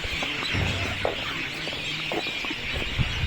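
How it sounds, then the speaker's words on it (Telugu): Parrots and other birds call from trees around a temple at sunset, steady squawks and chirps scattered over a constant bright outdoor hiss, with occasional sharper cries standing out. "ఫ్రెండ్స్ విన్నారు కదా ఆ పక్షుల కిలకిలలు."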